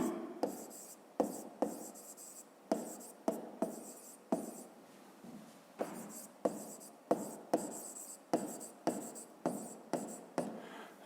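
Pen scratching across paper in short, quick strokes, a series of distinct bursts with brief pauses between them, close and fairly quiet, with no voices.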